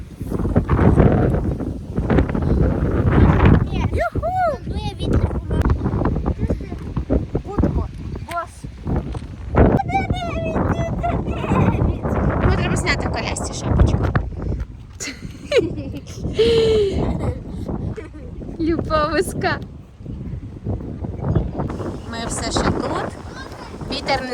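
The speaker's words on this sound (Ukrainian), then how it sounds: "Вітер просто зносить. Все зносить." Gusty wind rumbles and buffets throughout while a person talks and laughs over it, the roar rising and falling with each blast.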